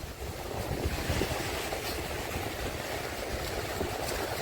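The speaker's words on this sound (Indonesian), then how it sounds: "Nih kita bisa main ombak di sini" Ocean surf breaking on a beach at Cilacap, a continuous broad wash of waves rolling in under gusty wind, moderately loud and steady, no speech.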